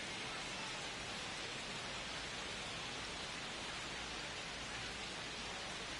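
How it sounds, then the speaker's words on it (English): Steady rain falls in the MLB The Show 25 baseball video game, a continuous dense hiss of downpour with no letup, even and fairly loud, with no voices. "The rain is here, and it doesn't look like it's going away anytime soon."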